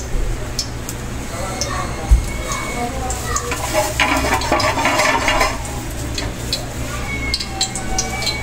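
Oil heating and sizzling in a pan ready for frying dried fish, with clinks of utensils and stirring, a person talking throughout.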